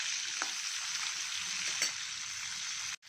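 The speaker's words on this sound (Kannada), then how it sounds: "ಸ್ವಲ್ಪ ಮೀಡಿಯಮ್ ಉರಿಲಿ ಬಾಡಿಸ್ಬೇಕು" Onion and capsicum sautéing in a pan over a medium flame make a steady, close sizzle with faint stirring scrapes. The sizzle runs without a break until it cuts off abruptly at the end.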